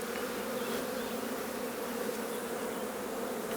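Honeybees buzzing steadily in a dense, continuous drone close by as a beekeeper splits a colony during summer hive work.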